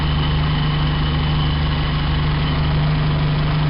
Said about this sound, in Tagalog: kung narinig niyo yung parang matining na tunog, hindi ko alam kung belt yun o something